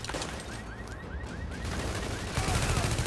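Gunfire rattles in the shooter video game Tom Clancy's The Division, rapid repeated shots in a steady burst over dense background game noise, growing louder toward the end.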